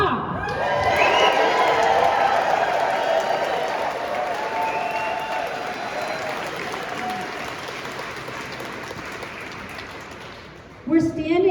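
Large outdoor crowd at a public lands rally in Montana cheering, clapping and shouting loudly, swelling at first then slowly fading over several seconds before a brief burst near the end.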